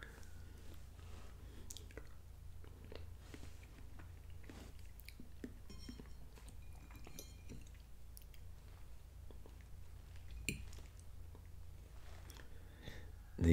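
Quiet close chewing of M&M candies, soft wet biting and mastication clicks scattered irregularly over a low hum, no talk.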